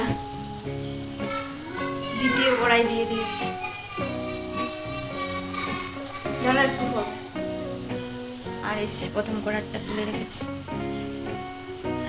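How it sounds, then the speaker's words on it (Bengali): Steady oil sizzling and crackling of palm fruit fritters frying in a wok, with music playing loudly over it throughout. "এ দেখুন আমার ফুলুরি ভাজা হয়ে গেল প্রথম কড়াই"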